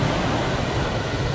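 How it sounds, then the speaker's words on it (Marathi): Rough sea waves breaking on the Konkan shore near Gajbadevi, a loud continuous roar of surf mixed with wind buffeting the microphone. "असा समुद्र खवळलाय बघा. बेकार खवला बेकार"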